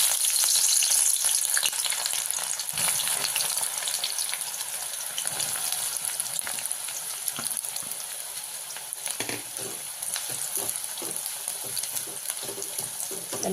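Thinly sliced onions frying in hot oil for potato dum biryani, a steady close sizzle and crackle throughout, with occasional stirring clatter toward the end and no talking.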